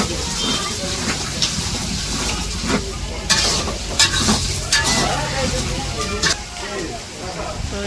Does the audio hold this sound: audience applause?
no